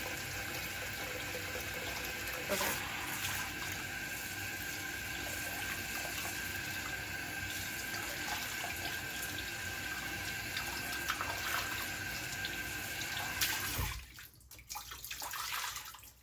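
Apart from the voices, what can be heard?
tap water running while warming up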